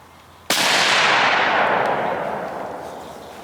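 One loud shot from a .308 caliber hunting rifle fired outdoors, an abrupt sharp crack followed by a long booming echo that slowly fades over several seconds.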